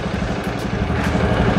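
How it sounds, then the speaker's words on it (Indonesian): Motorcycle engine held at around 4000 rpm, a steady loud mid-pitched drone with a fast even pulse, close by and alone. "Sekarang kita gas di putaran kurang lebih 4000 rpm ya."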